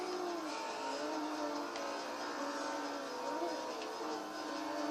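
A Toyota Supra race car engine in Forza 4 holds a steady, loud drone with shifting pitch throughout, suggesting sustained high revs with faint revving swells and no pauses.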